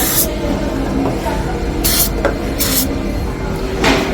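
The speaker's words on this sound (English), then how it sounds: "Now I'm going to use a silicone spray" Silicone spray on a smokehouse temperature sensor wire gives four short, sharp hissing bursts spaced about a second apart, close up over a steady low background hum.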